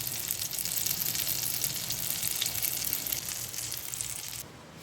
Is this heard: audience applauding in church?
no